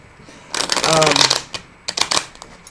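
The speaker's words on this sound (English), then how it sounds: "I'm going to put another shuffle and rifle on these" A close riffle shuffle of cards: a dense, rapid fluttering burst, a short pause, then a second quicker riffle, with a voice murmuring during the first.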